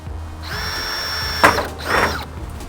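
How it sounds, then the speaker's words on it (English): A power drill whines steadily as it bores a pilot hole into a sturdy thin metal tin, with a brief crunch as the bit breaks through, then a short second burst. "this tin is pretty strong, so I'm gonna drill a pilot hole"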